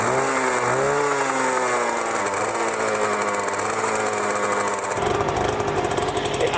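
A Honda NSR motorcycle engine idles close by, a steady, loud two-stroke drone with a rough, buzzy rhythm that holds throughout and shifts slightly in tone near the end.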